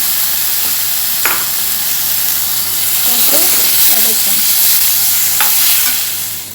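Ground tomatoes sautéing with shallots for a mutton gravy, a loud continuous hiss and sizzle close up, with a few scrapes and clinks from stirring.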